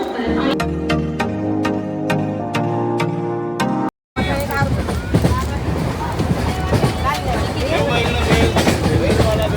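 A melodic tonal passage gives way to the steady rumble and rattle of a moving passenger carriage on the Diva–Sawantwadi Express train, with crowd chatter throughout.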